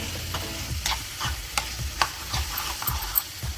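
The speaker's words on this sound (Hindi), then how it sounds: "और टमाटर को अच्छे से इसमें भूनेंगे" Tomatoes frying in ghee with red chilli powder, stirred in a pan, a steady sizzle with repeated scraping strokes of a spoon every half second or so, close and clear.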